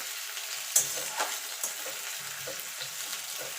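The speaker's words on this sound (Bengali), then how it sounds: "পেঁয়াজটাকে লাল লাল করে ভেজে নেব।" Sliced onions frying in oil in a pan for a Bengali pumpkin bharta, a steady soft sizzle with a few brief clicks of stirring, moderately close and heard alone.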